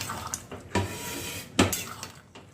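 Banana flower fritters being mixed into a curry in a cooking pot: a spoon clinks against the pot twice over a soft, wet simmering sound.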